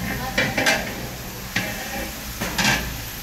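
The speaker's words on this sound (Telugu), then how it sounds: "ఉల్లిపాయలు, పచ్చిమిర్చి, టమాటా అన్నీ కలిపి కూడా మళ్ళీ ఒకసారి తిరగదిప్పుకోవాలి." Tomatoes, onions and green chillies being stirred in a pan for a Telangana-style chicken curry: a few scraping, sizzling stirs spaced out over a low steady hum, close and moderately loud.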